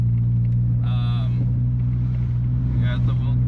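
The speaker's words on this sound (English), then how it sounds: "Oh, the tire's rubbing, you hear that? Yeah, rubs on the front." Nissan 240SX with an SR20 engine and welded differential driving, engine rumbling steadily with a couple of brief higher rubbing whines from the front tire, heard from inside the car.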